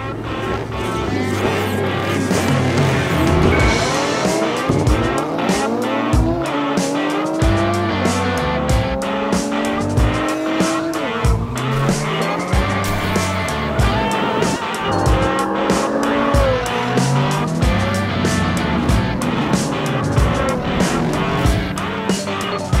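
Diecast toy cars race down a track in a continuous, loud rush of rolling wheels and rattling, with rising and falling whines and scraping as they swing through the corners, with no speech.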